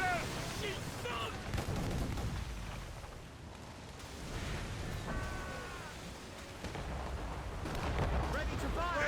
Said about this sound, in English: Fire! Mortars incoming, sir!